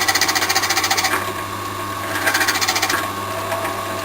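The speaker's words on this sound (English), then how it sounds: "We're going to drill down just enough for the depth of what the nut is in terms of its thickness." A drill bores a shallow hole into knife scales to seat a nut, with a steady motor whine and rapid chattering pulses that surge and ease across the cut, heard close up in a workshop.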